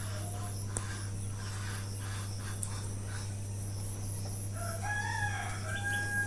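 A free-range desi rooster crows near the end over a steady mechanical hum, with faint background calls and ambient noise before the crow rises clearly.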